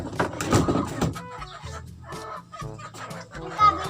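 A red chicken clucks close by in short, uneven bursts of sharp clucks with brief pauses between them, and faint background noise around it.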